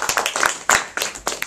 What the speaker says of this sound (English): Can you give me a round of applause for Edna?